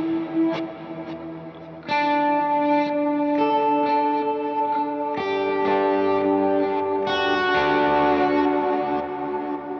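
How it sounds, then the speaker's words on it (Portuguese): An electric guitar plays through a reverse delay on an HX Stomp pedalboard, its sustained notes swelling in with echoing, washed tails as a slow melodic phrase unfolds alone. "Tenho essa outra configuração aqui com delay reverse."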